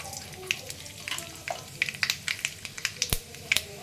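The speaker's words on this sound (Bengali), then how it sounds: "একটু জিরে দিলাম ফোড়নে, কতগুলো কালো সর্ষে দিচ্ছি" Cumin and black mustard seeds tempering in hot refined oil in a kadai, crackling and popping close up with dense irregular snaps over a steady sizzle, no voices.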